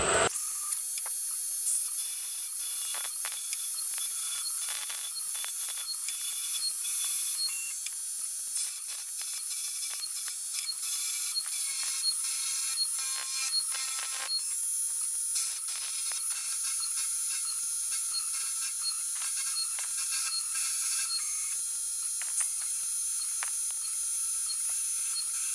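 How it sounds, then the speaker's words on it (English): Machine peck drilling into a metal facing plate, a steady high-pitched whine and hiss with repeated short grinding bursts as the bit pecks in and out. "Continue with peck drilling."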